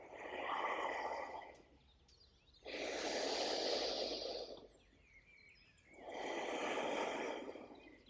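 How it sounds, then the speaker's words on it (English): Slow, deep breaths taken during a qigong routine, three long airy inhale and exhale cycles in a steady rhythm, close and soft, with no talking. "Breathe in. Breathe out. Breathe in. And out."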